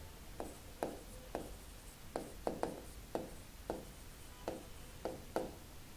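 Pen writing on paper while solving a class 7 math problem, quiet scratchy strokes arriving in short irregular bursts, close and soft with no speech.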